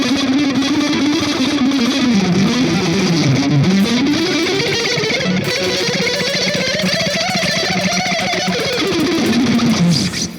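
A fast, overplayed electric guitar solo with heavy distortion, a dense, continuous run of rapid notes that rises and falls in pitch, loud and close with no talking over it.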